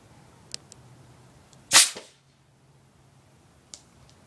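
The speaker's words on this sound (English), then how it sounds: "Hold this and shoot up towards the sky so you guys can see it" A sharp hiss-pop burst from an air pressure gun shooting a flower bud upward outdoors, a single loud close release with a quick fading tail, set among a few faint clicks and quiet surroundings.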